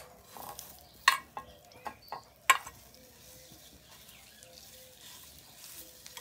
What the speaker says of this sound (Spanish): Vamos a freír el chorizo que esté bien, bien cocidito